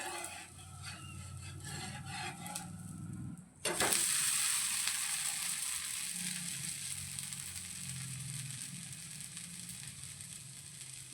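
A millet dosa sizzles in oil on a hot pan, with a quiet crackle, then a sharp scrape and thump as it is flipped, followed by a louder, steady frying hiss.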